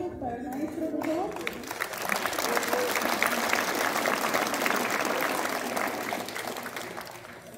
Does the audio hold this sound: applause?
yes